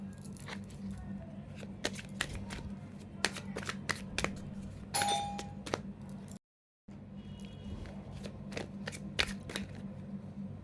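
Tarot cards are shuffled and drawn in repeated crisp riffles and flicks, close and fairly quiet, with a brief silent gap midway before the shuffling resumes.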